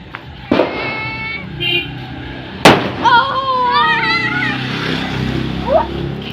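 Firecracker bombs burst on Mahalaya night, two sharp nearby bangs a couple of seconds apart, with excited voices talking and calling out around them.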